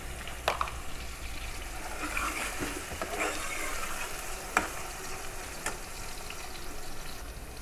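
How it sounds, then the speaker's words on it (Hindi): Chicken pieces sizzle in a salted hot pan, a soft continuous frying hiss with a few sharp clinks and stirring knocks, fairly quiet and with no talking. "फिर इसमें मैं चिकन डालूँगी ताकि चिकन लगे नहीं"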